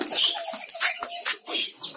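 Diamond doves in an indoor aviary give soft, repeated coos mixed with light chirps and brief wing flutters, close and fairly quiet, with no one talking.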